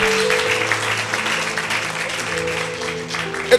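Applause rising from a gathered church or prayer audience honoring a prophet, steady and broad throughout, with a sustained musical tone underneath and a brief louder burst near the end.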